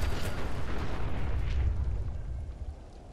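Mini nuke launcher explosion in the video game Fallout 4: a loud, deep rumbling blast with a sustained low roar that slowly fades over a few seconds, with no talking.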